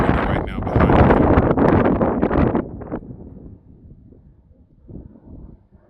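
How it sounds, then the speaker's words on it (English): Strong wind batters a phone's microphone with the wind filter switched on, loud gusty buffeting for the first few seconds before easing into a quieter, ragged rumble with a brief swell near the end. "I'm standing in a spot where it's super windy right now behind the camera."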